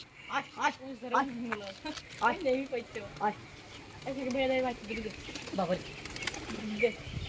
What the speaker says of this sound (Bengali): এই যে এই ফ্যাসা পায়রাটা এসছে